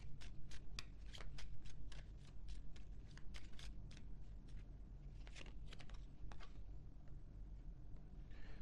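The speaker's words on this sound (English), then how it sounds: "Let me get some final oracle cards here." Oracle cards are shuffled by hand, with a steady run of close, crisp riffles and flicks carrying on for several seconds over a low background rumble.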